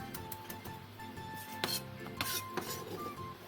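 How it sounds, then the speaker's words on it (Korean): Half an onion and a green onion sliced with a knife on a board, a series of quiet crisp chops and cuts with light scraping, close and soft, no voices. "양파 2분의 1개를 채 썰고 대파 1개도 쫑쫑 썰어주세요."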